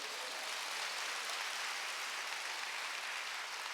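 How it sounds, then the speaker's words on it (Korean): A church congregation at a Wednesday worship service claps together in a steady, dense wash of applause that stays even and fairly soft throughout, with no voices over it. "지금 내 말 알아들었으면 한번 박수 쳐보세요."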